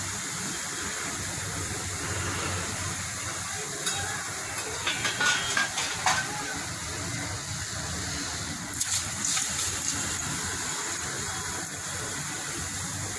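Raw mango pieces steam in a pot for a Maharashtrian kairi panha summer drink, giving a steady, close hiss with a few faint clinks in the middle.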